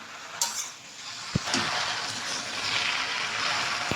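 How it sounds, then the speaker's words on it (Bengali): Malabar spinach and shrimp are stirred in a hot pan, giving a soft steady sizzle with a few sharp spatula scrapes and clinks against the metal, close by. "দিয়ে একবার আমি নাড়িয়ে নিই"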